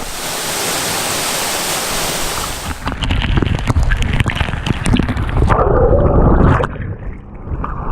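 A natural waterfall in Hawaii pours and splashes in a steady broadband roar while someone swims in the cold pool, with sharper splashing and churning water close by through the second half.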